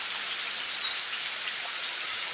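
Steady rain falls in the Konkan during May, an early-season shower making a dense, even hiss of drops hitting surfaces throughout, close and unbroken, with no voices.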